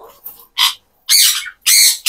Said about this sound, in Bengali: যে কোকাটেল আছে, এলবিনো কোকাটেল, সেই কোকাটেলের জোড়াটা